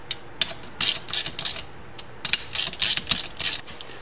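A ratchet wrench snugs down camshaft bolts on a 1973 Honda CB750, heard up close in bursts of rapid clicking pawl strokes with brief pauses between them and no talking.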